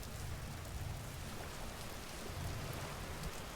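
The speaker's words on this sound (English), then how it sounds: "Oh, it's raining." Rain falls steadily in the survival video game Vintage Story, a dense continuous hiss with a low rumbling undertone, even and unbroken throughout.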